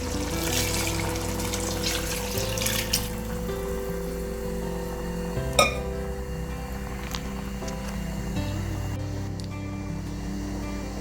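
A cup of coconut milk and yogurt blended with green chili is poured into a pot of partly cooked chicken for biryani, a soft, steady trickle set against a constant tonal background hum.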